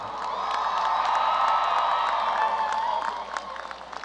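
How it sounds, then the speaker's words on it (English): A large audience at a university commencement ceremony cheers, whoops and applauds in one sustained loud roar that fades slightly toward the end, with scattered shouts rising above it. "How about a cheer?"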